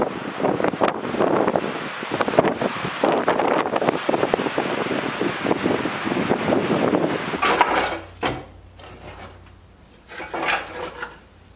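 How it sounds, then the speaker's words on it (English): Strong cold winter wind at a farmhouse, around 23 degrees, gusting and roaring across the microphone for most of the stretch, then easing into quieter, intermittent buffeting near the end. "and that wind is still whipping."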